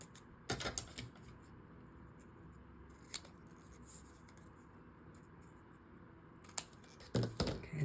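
Scissors angle-cutting vellum paper scraps, heard as a few quiet crisp snips spread across the clip with soft handling sounds between them.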